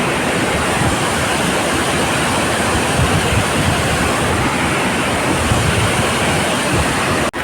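Devkund Waterfall in Similipal, Mayurbhanj, Odisha pours in a constant, dense roar of falling water, loud and close, with no break throughout.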